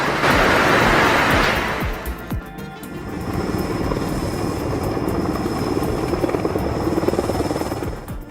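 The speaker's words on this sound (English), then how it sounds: "The Powerline rescue helicopter nailed a perfect performance" A powerline helicopter carrying a power pole roars close by, its broadband rotor and engine noise loud and steady, easing slightly after the first couple of seconds, with no voices.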